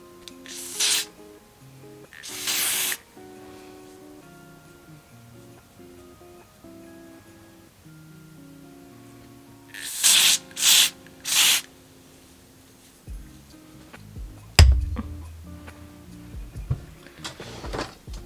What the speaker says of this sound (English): I'm going to use this spray.